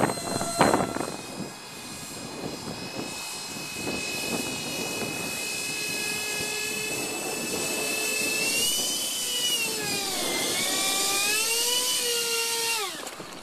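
A scratch-built ducted fan RC park jet modeled on the YC-14 comes in to land, its electric fan whining steadily at close range with a high tone that rises and falls as the throttle changes.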